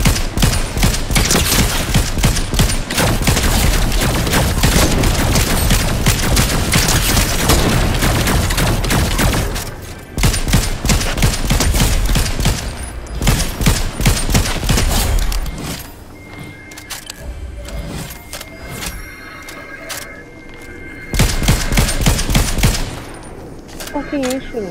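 Rapid automatic gunfire in Fortnite, loud and near, crackles in dense bursts, then thins into sporadic shots and pauses before another burst near the end.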